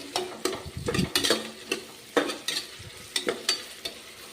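Ginger garlic paste frying in hot oil for kushka rice, with loud bursts of sizzling and repeated scraping stir strokes of a spoon against the pan, close up and without talk.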